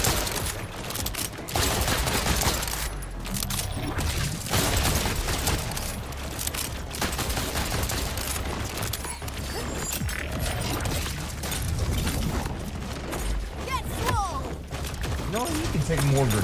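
Grenade explosions and heavy gunfire in the video game Borderlands, a dense, continuous barrage of bursts and thuds with a voice talking over it.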